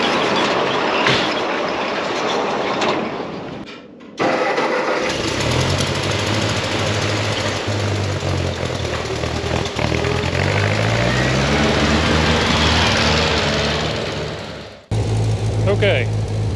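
An old Ford 9N tractor under repair cranks over and catches, then settles into a loud, steady, throbbing idle with a rising and falling tone for about ten seconds before cutting out abruptly.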